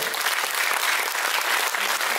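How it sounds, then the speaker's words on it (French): An audience claps for a contestant at a Lady and Lord Réunion pageant evening, a short burst of dense, steady applause with no break. "Merci, on peut l'applaudir."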